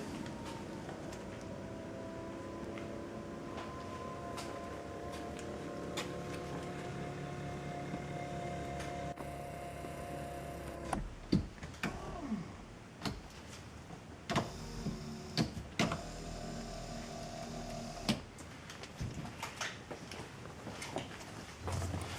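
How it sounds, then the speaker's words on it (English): A Honda Accord power seat motor drives the seat forward with a steady electric whir for about ten seconds, then stops and gives way to scattered clicks and handling noises inside the car. "it's a good idea to move the seat forward as far as possible"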